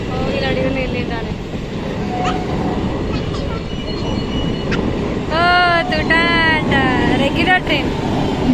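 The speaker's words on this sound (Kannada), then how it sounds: "Regular train." A regular passenger train passes close by with steady, loud rumbling and clattering throughout, brief wheel or horn-like tonal squeals toward the end, and people talking over it.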